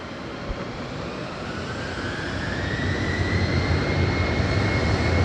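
An airliner takes off from runway 05 at Madeira Island Airport, its broad engine roar swelling steadily as a rising whine climbs in pitch, heard from some distance with no voices.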